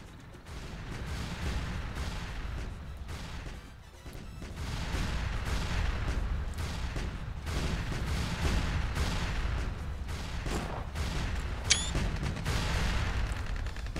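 Tanks and infantry clash in a Tropico 5 battle, with a steady, dense wash of distant gunfire and artillery rumbling throughout, briefly dipping near the fourth second, plus one sharp high crack late on.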